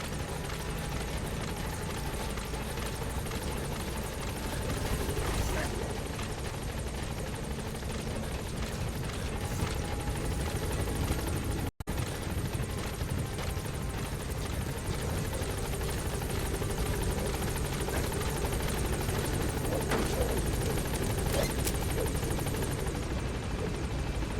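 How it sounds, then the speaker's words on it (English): Support helicopter arriving at a landing zone in Metal Gear Solid V: The Phantom Pain, its rotor and engine roar loud and steady for the whole stretch, with one abrupt momentary dropout midway and no talk. "Support helicopter has arrived."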